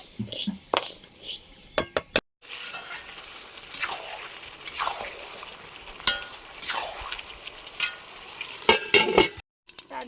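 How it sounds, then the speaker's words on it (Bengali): Moong dal for khichuri frying in a pan, with dry rustling stirs, sizzling and clinks of a utensil against the pan, punctuated by sharp knocks and brief pauses, close by. "খিচুড়ির ডালটা ভেজে নিচ্ছি, মুগ ডাল দিয়ে করব।"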